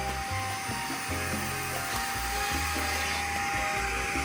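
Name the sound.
Yadea R6 hot-water rinser cleaner vacuuming floor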